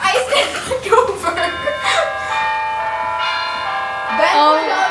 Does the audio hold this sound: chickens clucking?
no